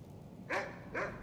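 Two short barks from a dog named Bran in Skyrim Special Edition, spaced about half a second apart over a low background hum, moderately loud and somewhat distant.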